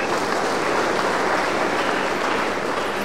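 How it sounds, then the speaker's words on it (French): An audience at a formal ceremony applauds: dense, steady clapping from a large crowd that fills the whole stretch at an even loudness, with no voices above it. "Sous vos applaudissements, s'il vous plaît."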